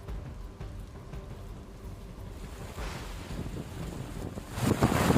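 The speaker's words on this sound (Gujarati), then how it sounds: "પવનના સુસવાટા સાથે ધોધમાર વરસાદ પડ્યો" Heavy rain driven by gusting wind in Khambhalia, Dwarka, Gujarat, a dense roaring hiss that buffets the microphone and swells louder near the end.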